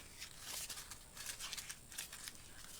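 Paper being crumpled by hand at a crafting desk, a run of crisp crinkling and rustling bursts, close and fairly quiet, with no talk.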